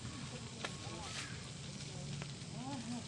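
Milkfish grilling over a strong fire gives a steady crackle and sizzle, with people talking faintly over it.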